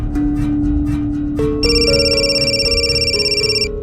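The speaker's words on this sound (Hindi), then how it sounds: "रवि के 11 मिस कॉल" A telephone rings with a repeated electronic trill, starting partway in and continuing loudly over a low hum.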